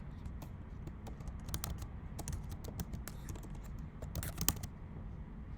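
Soft, steady typing on a computer keyboard while entering an axis title in a Google Sheets chart: quick irregular key clicks run throughout, faint and close, over a low room hum, with no talk.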